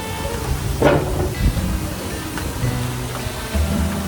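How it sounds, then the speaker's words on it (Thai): Food frying in a pan over an outdoor fire in the forest gives a steady broadband hiss and bubbling, with a few louder pops and crackles, near and continuous. "มันกำลังเดือดนะหรือกำลังจะไหม้ไม่รู"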